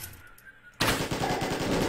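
Rapid automatic gunfire in the video game Elona Shooter bursts in after a short quiet stretch and then rattles on loudly and continuously to the end.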